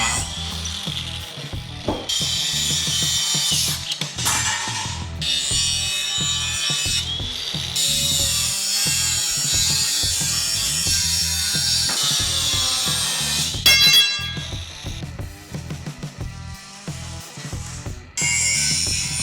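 Raw materials for a DIY home gym are cut with a power saw, making a loud, steady whine and rasp that shifts in pitch as the blade loads and eases. It runs almost without break for about nineteen seconds, with no speech.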